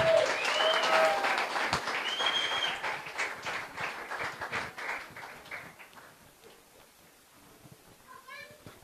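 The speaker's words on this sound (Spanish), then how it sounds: "Fuertes aplausos." Loud congregational applause at a church sermon, dense clapping with some voices and shouts over it, fading toward the end as a voice returns.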